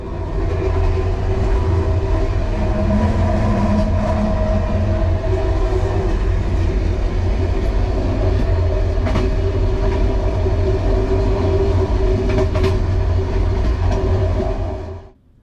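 A Hungarian MÁV-START train rolling on rails, loud steady rumble with a constant low roar and faint clickety-clack from the wheels, heard from inside a carriage, fading abruptly at the end.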